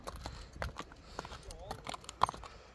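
An 8-9 year old horse at a livestock sale walks with irregular clip-clop hoof strikes on hard ground, faint and close, with a few sharper knocks amid quiet background.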